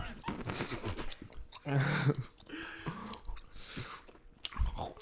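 Food is chewed close to the microphone with soft, wet crunching bites, quiet and continuous, with faint talk around it.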